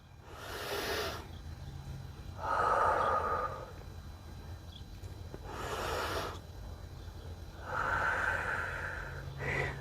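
Slow deep breathing during a yoga stretch, alternating breaths in and out as airy hissing swells every couple of seconds, soft and close with no talking.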